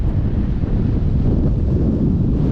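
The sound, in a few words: strong wind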